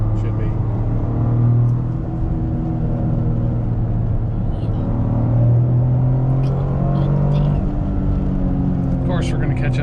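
A Toyota GR Corolla driven hard through curves on a track, its engine a loud, steady droning rumble heard from inside the cabin with slight rises and falls in pitch, with people talking over it.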